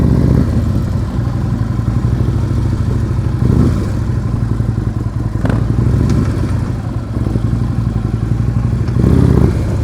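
Motorcycle engine idling and pulling at slow speed up a hill while the rider slips the clutch, a steady close low rumble with slight revving swells and some clatter, no talk.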